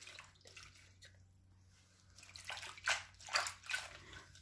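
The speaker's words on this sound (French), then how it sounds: "Je lave plusieurs fois, je jette l'eau bien sûr, je relave." Water sloshes and splashes softly as chives are rinsed by hand in a bowl, a few gentle swishes growing a little stronger toward the end, quiet and close.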